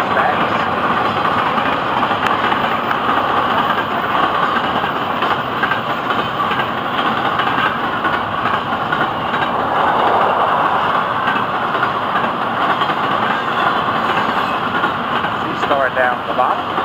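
A Florida East Coast freight train of double-stack cars rolls past under throttle, a steady loud rumble of engine and wheels sustained throughout, with faint clicking of cars near the end.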